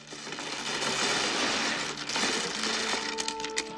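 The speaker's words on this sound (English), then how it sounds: "that's the sound of Mahjong" Continuous clattering and rattling of mahjong tiles being shuffled together, busy and close, with a few sharper clicks near the end.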